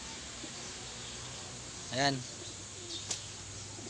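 A pigeon gives soft, low coos at a racing-pigeon raffle handover, close by under a quiet background hum, while someone speaks briefly.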